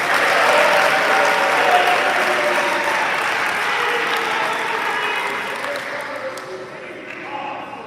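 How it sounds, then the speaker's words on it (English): Sustained applause from an audience at a school sports awards ceremony honoring a tennis team captain fills the room, full and steady before slowly tapering off, with a faint voice over it near the end. "Please give him a round of applause"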